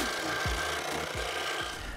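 Edges of wooden planks for a craft shield are sanded by hand, giving a close, raspy rubbing sound in short repeated strokes with no talking.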